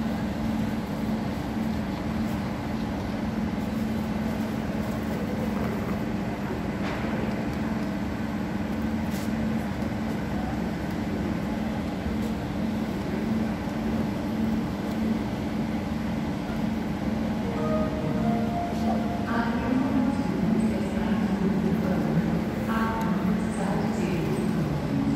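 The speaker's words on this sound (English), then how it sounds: "This is inside the train station, guys." Inside Graz central station in Austria, a steady low rumble fills the hall, with faint scattered voices and a brief tonal chime or announcement near the end.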